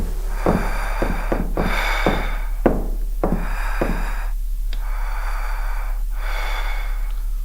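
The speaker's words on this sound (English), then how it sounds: "Will you stop breathing so damn loud?" In the horror game Don't Make A Sound, a character breathes loudly and raggedly in sharp gasping inhales and exhales, a dozen irregular breaths close up over a low steady hum, with no speech.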